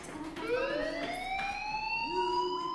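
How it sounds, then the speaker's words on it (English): A fire alarm sounds in the video game Life Is Strange, a steady electronic tone sweeping upward in pitch and repeating, loud and continuous across the scene. "do you hear that fire alarm?"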